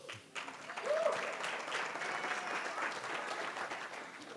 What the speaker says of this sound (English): Please keep clapping when I say John Marshall High School.